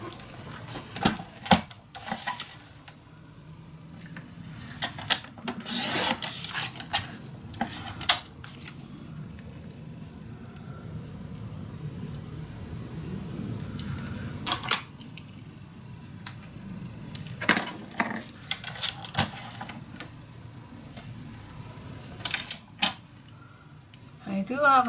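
Scissors cutting a small piece of background paper for a handmade fantasy mini album, close intermittent snips and paper rustles in scattered bursts, with soft talk between them.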